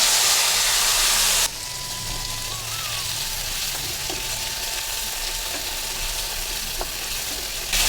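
Cut lemon pieces frying in hot oil in a home kitchen for lemon chutney, giving a steady broadband sizzle that starts loud and dense, then settles into a softer continuous crackle with occasional faint clinks.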